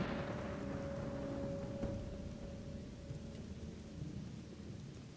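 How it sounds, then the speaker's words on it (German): Rainfall and thunder in the Gothic 2 game, a steady dense patter of rain with a low rumbling roll underneath, fairly quiet and continuous, no talk. "Also ich wünsche mir, der Regen würde wieder aufhören."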